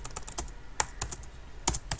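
Rapid, uneven keystrokes on a computer keyboard while code is entered for a Next.js page link, with sharp individual clicks clustered in short bursts and quieter gaps between, close and clear with no talking.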